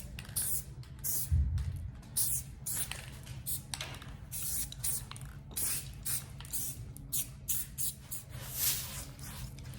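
Repeated bursts of hissing spray, short and fairly close, broken by brief pauses and light handling clatter, with no talking.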